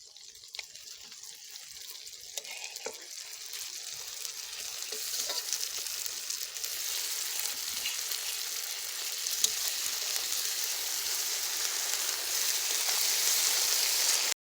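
Dried red chili paste and ginger paste sizzle in hot oil in a pan for chicken kosha, a steady close-up hiss that grows gradually louder and more intense, with no talking.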